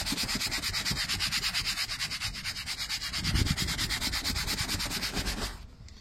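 Brush scrubbing the leather seat of a BMW E46, a steady rhythmic rasping with regular strokes, close and fairly loud, stopping near the end.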